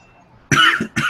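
Two sharp, close coughs in quick succession break a near-silent background, the first longer and harsher than the second.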